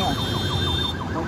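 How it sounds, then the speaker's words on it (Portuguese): A police siren wails in a fast rising-and-falling cycle over traffic rumble, loud and close, with a steady high whine running beneath it. "Só quando a prisão já tinha sido feita é que a primeira sirene policial foi ouvida"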